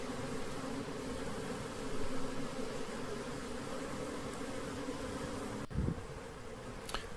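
A honeybee swarm gathered around a hive hums in a steady low drone, with a continuous buzz, a few louder passes near the microphone and a sharp click partway through.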